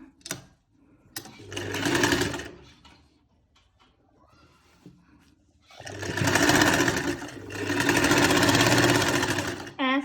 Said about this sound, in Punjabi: ਆਪਾਂ ਦੂਸਰੇ ਪਾਸੇ ਸਲਾਈ ਲਾ ਲੈਣੀ ਆ